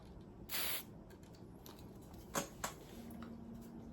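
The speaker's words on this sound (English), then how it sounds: "Just spray a little dab in there." A short hiss of MG Chemicals 401B contact cleaner sprayed into a guitar, a single close burst of about a quarter second followed by a couple of faint clicks over quiet room noise.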